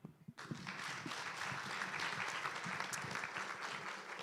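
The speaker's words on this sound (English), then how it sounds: "Another round of applause." Audience applause at a signing and handover ceremony, starting abruptly after a brief pause and holding as a dense, steady wash of many hands clapping in a hall.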